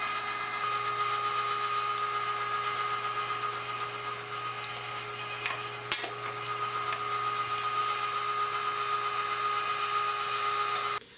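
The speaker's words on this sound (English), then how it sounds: "the bacon and venison are going together in the grinder" An electric meat grinder runs continuously as bacon and venison go through it, giving a steady, close whine and hum with a sharp click near the middle before it shuts off at the end.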